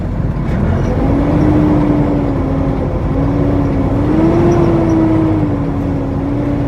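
A 2020 Peterbilt 579 truck pulling away, its engine droning steadily with a low tonal hum that rises and falls slightly as it moves off, loud and close, with no talk.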